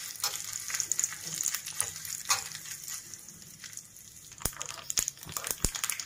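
Curry leaves, dried red chillies and asafoetida sizzle and crackle in hot oil for a peanut chutney tempering, a close, steady frying hiss broken by sharp pops and the scrape of stirring.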